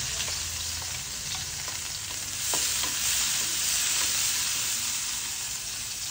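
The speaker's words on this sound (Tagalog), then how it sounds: "ilagay na natin yung 4 cloves of garlic" Four garlic cloves frying in a pan for pakbet, a broad steady sizzle with a few light stirring clicks near the middle, close and continuous with nobody speaking.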